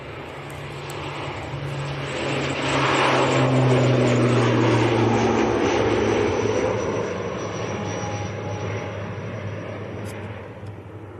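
An Aer Lingus airliner bound for Dublin takes off at Leeds Bradford Airport, heard from behind the perimeter fence as a broad engine roar that swells to a peak midway and then slowly fades into the distance.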